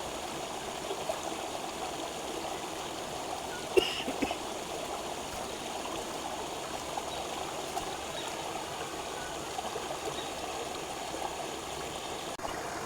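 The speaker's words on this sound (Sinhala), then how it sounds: "වතුර සද්ද" Steady rushing and trickling of the Kalu Dola stream at Pitigala, Sri Lanka, flowing over stones, continuous and even throughout, with a brief louder splash partway through.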